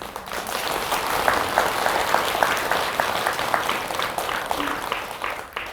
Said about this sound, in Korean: 박수 치는 폼이 끝낼 시간 됐다 그 말이네.